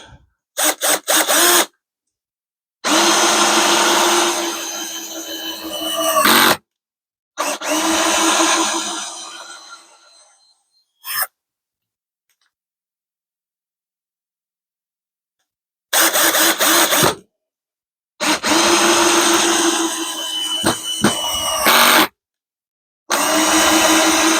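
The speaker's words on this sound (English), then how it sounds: "We'll just run this decking screw in a couple more times." A 21V cordless drill drives a decking screw in repeated bursts, each a loud whirring run of a few seconds broken by sudden stops and silent pauses, with a long quiet gap in the middle.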